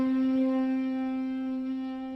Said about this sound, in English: let's just take a harp and combine it with an electric guitar